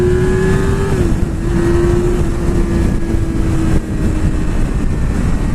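A 2020 Yamaha R6 sport motorcycle accelerates hard and loud, its high-pitched engine whine holding steady through a brief gear change, with strong wind rush throughout.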